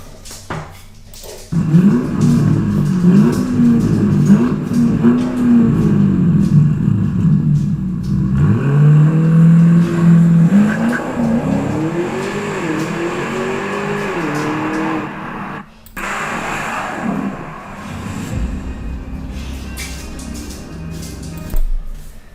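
An Audi RS7 R ABT, a limited-run 2020 car tuned past 740 horsepower, accelerates with a deep rumbling engine note that climbs and falls through the revs. It is loud and close, then breaks off briefly before a softer rumble returns, with no talking.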